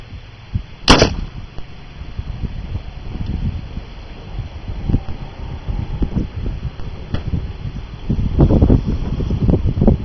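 A Smith Cavalry Carbine fires a single loud, sharp .50 caliber shot at a watermelon outdoors, followed by wind buffeting and faint rustling.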